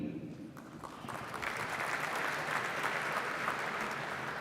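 An audience at the Reagan National Defense Forum claps steadily, the applause swelling after the first second and holding at a moderate, fairly distant level.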